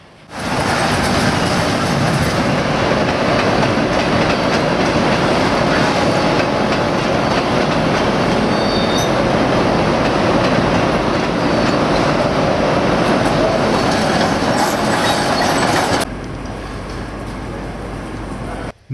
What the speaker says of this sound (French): nous sommes en gare de Seinäjoki avec notre train rapide Helsinki-Oulu